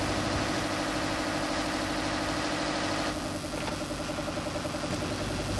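A narrowboat engine idles just after starting, giving a steady, loud mechanical chugging drone with a constant low rumble that eases slightly in its final seconds.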